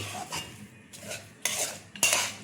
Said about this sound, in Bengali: এইভাবে নেড়ে নেড়ে যেমন নাড়ু করে, ওই পাতটা এসে গেলে হয়ে যাবে আমার পুর।